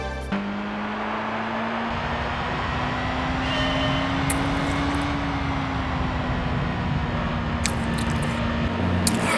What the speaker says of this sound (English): And now for a car whose engine sound I'm pretty sure is from the first game.